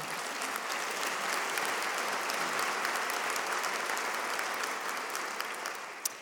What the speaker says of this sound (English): Yes, and you can applaud.